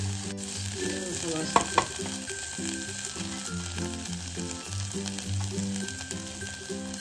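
A fasting dish sautés in a pan with a steady sizzle and occasional stirring, while a droning tonal sound pulses underneath throughout.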